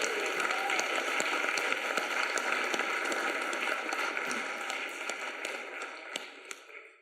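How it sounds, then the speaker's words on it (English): Audience applause for current and past parents of a handbell choir at a church Christmas concert: dense, steady clapping from a mid-sized crowd that holds for several seconds, then gradually thins and fades toward the end. "Let's give them a round of applause"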